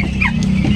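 Brief clucking from local turkeys and chickens housed in a coop room, a short close burst over steady low background noise.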